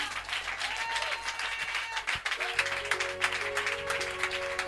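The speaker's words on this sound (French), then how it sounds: "Est-ce que tu peux donner une offrande d'acclamation à Dieu?" A church congregation applauds as an offering of acclamation to God, dense continuous clapping from a crowd, fairly loud and sustained, with some voices and a sustained keyboard tone entering partway through.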